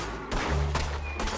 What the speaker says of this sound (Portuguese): Vou dar mais um tiro, cuidado